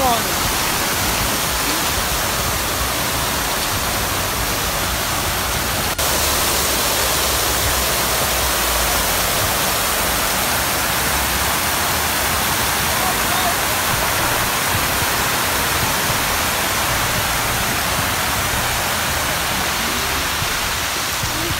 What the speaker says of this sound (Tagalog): It's rainy day. Huh? Lakas po ng ulan.